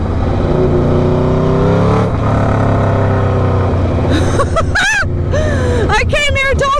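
An Aprilia RSV4 1100 Factory motorcycle engine drones loud and close, then revs in sharp rising and falling sweeps toward the end, with an excited voice talking over it.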